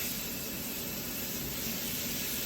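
A ribeye steak sizzles on a roasting hot griddle, giving a loud, steady, broadband hiss that runs unbroken with no talk over it.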